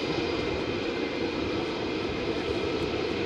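Military jet engines roar continuously from fighters at RAF Lakenheath such as F-15s, F-16s and F-35s, a loud, dense, sustained rumble with no talking over it.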